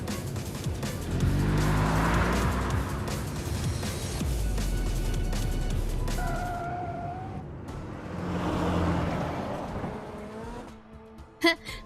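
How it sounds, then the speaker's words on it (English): A car races through city streets in the Love and Deepspace video game: a loud engine roar with squealing tires surges and fades, then passes again, ending with a few sharp impacts. "The car emerges from the tunnel and races through the streets of the killing zone"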